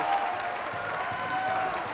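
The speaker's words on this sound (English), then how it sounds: "It's the Velocity faithful now cheering them on." Wrestling crowd at a live match cheering and applauding, a steady wash of claps and voices at moderate level, fairly distant and continuous.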